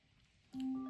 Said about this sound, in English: I got a phone call coming in from Blake.